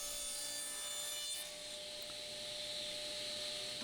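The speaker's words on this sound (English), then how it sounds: "let's put an angle cut on our plywood" A saw blade tilted at an angle makes a bevel cut through plywood, a quiet, steady whirring rasp that holds evenly throughout.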